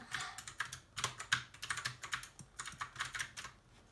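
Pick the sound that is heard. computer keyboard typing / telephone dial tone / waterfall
computer keyboard typing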